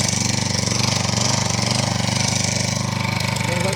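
An Agria lawn mower engine runs with a steady, throbbing putter, close by, holding a fairly even speed rather than climbing, short of revs.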